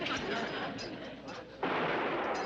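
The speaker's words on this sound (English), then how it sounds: "It sounded like a gunshot." A Derringer pistol fires a single sharp shot in a 1970s TV sitcom scene, an abrupt loud crack partway through that cuts into a noisy background.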